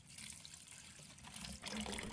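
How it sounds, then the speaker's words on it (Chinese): Fresh spinach leaves are rinsed under a running kitchen tap, giving a soft, steady stream of water with a brief louder splash near the end, close and low in level, with no talking. "放在水龙头下，用流动的清水仔细冲洗"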